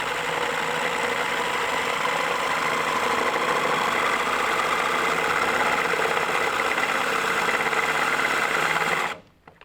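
A power drill fitted with a 5/16 bit bores out a rivet on a More Power Puller, giving a loud, continuous high whine that runs steadily for several seconds and then cuts off abruptly.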